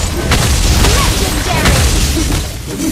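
A turret being destroyed in the Mobile Legends video game, heard as a dense, loud stretch of booming blasts and crashing impacts layered over continuous battle noise, with an announcer-style voice present.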